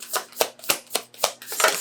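A deck of tarot cards is shuffled and dealt out in quick rhythmic riffles, six or so crisp papery flicks about a quarter second apart, close and clear with no talking.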